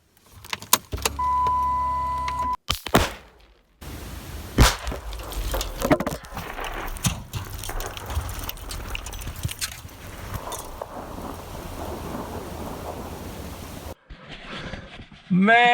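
A crash and shattering glass as the windshield of an LS-swapped Chrysler 300 breaks during a failed first engine start, preceded by mechanical clatter and followed by sustained noisy debris and rumble, with voices reacting at the end.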